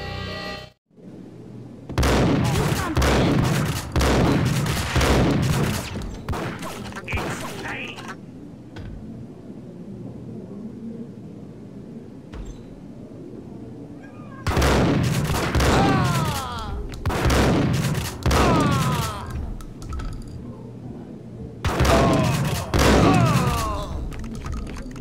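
Bursts of video-game gunfire from a Max Payne shootout, loud dense volleys of shots at the start, in the middle and near the end, with quieter stretches between.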